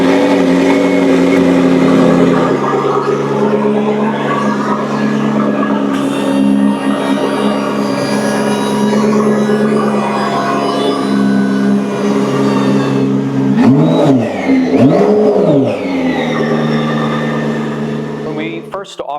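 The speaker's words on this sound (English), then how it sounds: "let's hear it start up." A McLaren P1 hybrid supercar starting up and running in race mode, its engine settling into a loud, steady drone with several sharp revs rising and falling near the end, heard close up.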